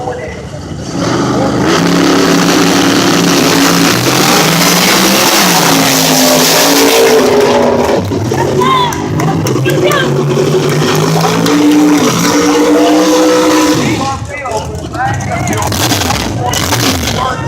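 Drag racing cars, including a gas Mustang, launch off the line at the strip with loud, revving engines that rise and shift in pitch, while an announcer talks over the roar and the sound dips briefly near the end.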